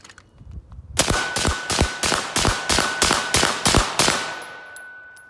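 A Hodge Defense rifle fires a rapid string of about a dozen loud, evenly spaced shots in a split-time drill, each crack sharp and close with a ringing tail that fades after the last round.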